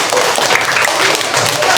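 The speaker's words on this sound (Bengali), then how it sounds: "সবাই একটা হাততালি দাও" Schoolchildren at a government primary school in Kasba, Brahmanbaria, clap together in a short, dense burst of loud, steady applause filling the room.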